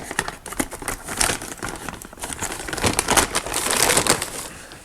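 Crinkly plastic packaging rustles and crackles in quick irregular bursts, close up, as it is cut open with small scissors and handled.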